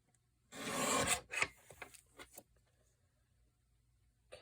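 Paper being trimmed for a craft project: a loud rasping cut burst, then a few shorter scraping strokes that fade into near silence.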